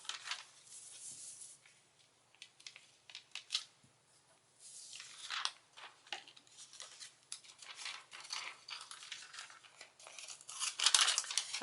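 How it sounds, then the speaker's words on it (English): Scissors snip through Stampin' Up! cardstock while a crafter cuts out a Watermelon Wonder piece, giving a quiet, close series of irregular crisp cuts and paper rustles. "I'll go ahead and cut the Watermelon Wonder out, putting it up against the cardstock."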